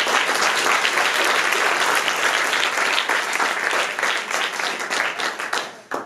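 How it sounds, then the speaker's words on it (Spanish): Loud, dense applause from a wedding crowd right after the vows, sustained throughout and easing slightly near the end. "Un fuerte aplauso."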